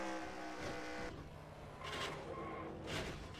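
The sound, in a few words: race car crashing into guardrail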